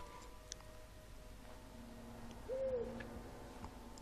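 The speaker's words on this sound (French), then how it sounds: "Et des hiboux." Owls hoot faintly in a quiet, dark castle setting of a Harry Potter video game, a single soft call standing out briefly over low ambient hum and scattered ticks.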